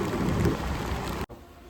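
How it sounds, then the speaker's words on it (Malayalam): Steady, fairly loud rain falling outdoors, a dense continuous patter that cuts off abruptly near the end, leaving only quieter hiss. "ഇവിടെ നല്ലൊരു മഴ പെയ്യുന്നുണ്ട്"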